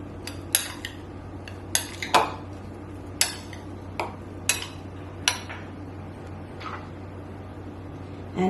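Raw shrimp being mixed in a bowl with salt, sesame oil and black pepper, sharp clinks of a utensil against the dish at irregular intervals over a faint steady hum, close and without talk.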